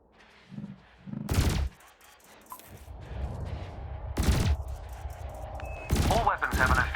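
Ship weapons fire in bursts at floating canisters during combat practice in the space game Elite Dangerous, with three loud broadband blasts over a low engine hum and some soft electronic tones.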